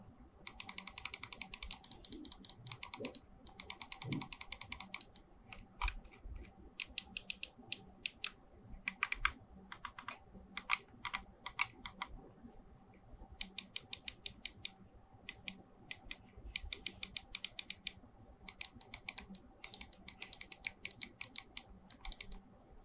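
Rapid bursts of crisp micro-switch clicks from an A4tech Bloody J95s gaming mouse, some in quick rattling runs and others spaced apart, close and fairly loud with no talking.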